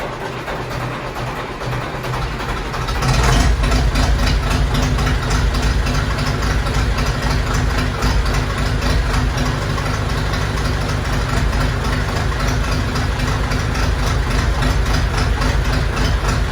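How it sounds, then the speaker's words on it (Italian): A Same Corsaro 70 tractor diesel engine cold-starts at 0°C: a few seconds of quiet cranking, then it catches into a loud, steady, close-up idle with a rough knocking chatter that continues to the end. "E ora proviamo a mettere in moto."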